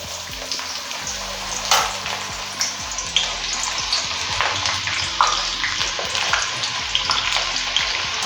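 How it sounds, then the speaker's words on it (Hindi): Finely chopped onions frying in hot oil for mutton Bihari keema, a steady broadband sizzle with faint scraping stirs and a low hum underneath, close and continuous with no voices. "अब इनको फ्राई कर लेंगे।"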